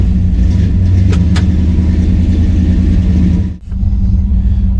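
A 1963 Chevrolet Bel Air with a 4-speed manual and clutch chatter idles steadily while warming up, a loud, close, even rumble with a brief dip near the end.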